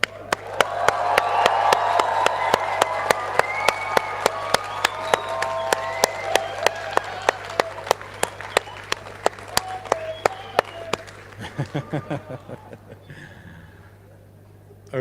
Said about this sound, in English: So please find your loved ones, give them a huge cheer.